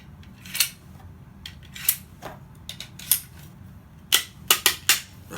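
Rounds clicking into a magazine with an ETS C.A.M. magazine loader, a series of sharp metallic snaps that start spaced apart and then come in a quick cluster of about four, close and crisp with no talk.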